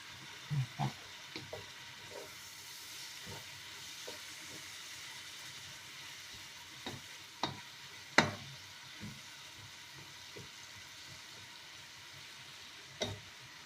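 Shredded cabbage fries in a pan with a faint, steady sizzle, broken by occasional soft clicks and scrapes as it is stirred.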